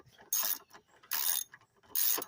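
A 3/8-inch drive ratchet turning a 13 mm socket while a fuel rail is installed on a 1996 Chevrolet Lumina, with three loud, close bursts of rapid clicking separated by short pauses.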